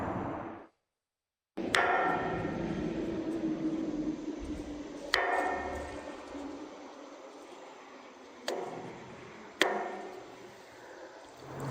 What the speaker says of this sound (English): Mallet head, top bar.